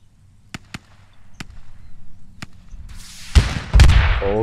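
An RPG launcher is fired during a HAB-HAB field game in Narva Village, a few scattered distant pops leading up to a louder whooshing launch and heavy thumps near the end, outdoors.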